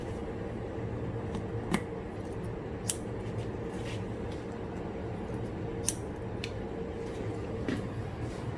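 Steady whirring, like a fan or clipper, fills the background, with a few faint, sharp snips of scissors cutting a man's hair at a barber practice cut, spaced irregularly.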